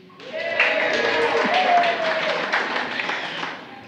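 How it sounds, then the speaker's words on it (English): Members of a historical museum audience cheer and clap in a room, a loud, sustained wash of applause with whoops and voices mixed in, holding steady before easing off. "Will you guys just give yourselves a big cheer,"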